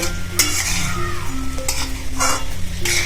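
An adadiya mixture roasts in a pan over a high gas flame, hissing and sizzling loudly and close while a spoon stirs and scrapes in quick repeated strokes.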